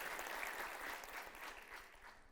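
Applause from an audience at a community gathering honouring a journalist, a steady dense wash of clapping that holds throughout and eases slightly toward the end, with no voices over it.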